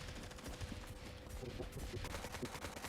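Dense, continuous rattling gunfire in the video game SCUM fills the whole stretch, rapid bursts layered over a steady background roar.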